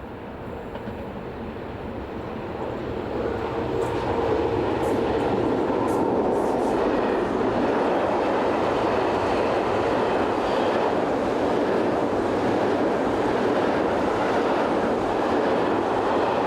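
A mixed freight train from a yard north of Dordrecht passes close by, its roar building over the first few seconds into a loud, sustained rumble with faint rhythmic wheel clatter and brief high squeals, no voices.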